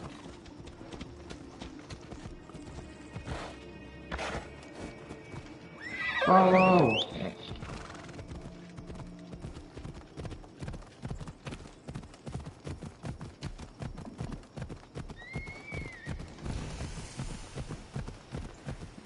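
A horse whinnies loudly in the middle of Assassin's Creed Odyssey gameplay, surrounded by steady clip-clop hoofbeats of galloping, with game music and a brief voice underneath.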